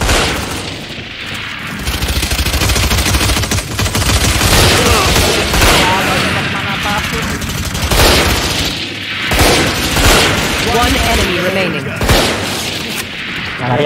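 Loud, dense gunfire in the shooter game Valorant, with rapid bursts and heavy booming shots running almost continuously while players talk over it.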